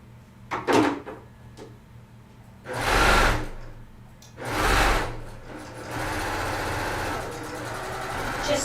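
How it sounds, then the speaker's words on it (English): Home sewing machine stitching quickly along quilt seams on a jelly roll coffee cozy, heard in two loud bursts of rapid whirring followed by a steadier longer run, with a few soft clicks and handling sounds in between. "I'm going to sew along those seams really fast"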